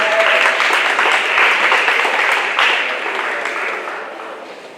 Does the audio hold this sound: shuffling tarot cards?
no